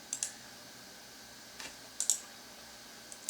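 Computer mouse clicking during circuit simulation work, a few sharp close clicks, some in quick pairs, spaced out over a quiet background hum.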